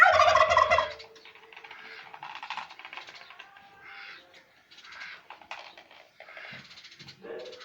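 A turkey gobbles loudly in a rattling burst at the start while feeding on chopped onion stems, followed by softer chirps and clucks from birds nearby over quiet background.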